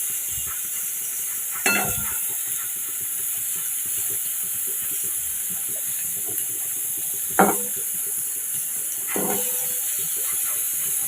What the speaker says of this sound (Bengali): তাহলে এটা ভাজা করে নিই।